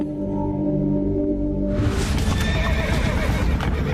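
Horses neigh loudly and close, a long whinny rising into a burst of snorting cries, with hooves clip-clopping on rough, rocky gorge terrain; no voices are heard.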